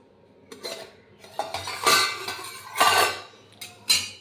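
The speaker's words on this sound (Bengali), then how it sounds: "টিফিন বাটিটা নাবিয়ে নিয়ে নিচে এবার খুলে দেখার পালা" A steel tiffin box holding steamed fish with bottle gourd leaves is set down and its lid worked off, giving several sharp metallic clinks and scrapes at close range, with no talking.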